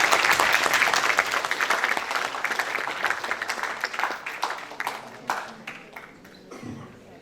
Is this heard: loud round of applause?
yes